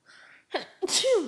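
A single person sneezes close by, a sharp sudden burst with a preceding breathy intake, clear and loud with no talk over it.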